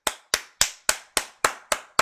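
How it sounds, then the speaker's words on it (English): Eight slow, evenly spaced hand claps ring out sharply and close, each with a short decaying tail, a round of applause for a footballer during a Senegal versus Belgium World Cup match watch-along. "Round of applause for Nicholas Jackson."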